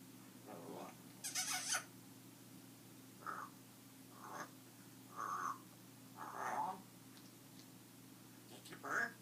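A pet bird gives a string of short, squeaky, croaking calls spaced a second or two apart, fairly close, over a low steady indoor hum.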